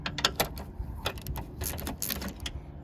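A ratchet on a swivel extension clicks in quick, uneven bursts while loosening strut nuts on a 2004-2008 Lexus RX330/RX400H front strut assembly, close and metallic.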